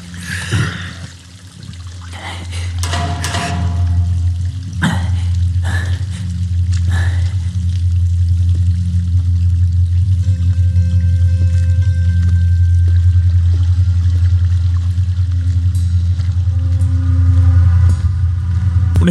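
Water pours out in Uncharted 3, a steady splashing trickle that runs on for many seconds over a loud low rumbling game background, with scattered clinks and no talk.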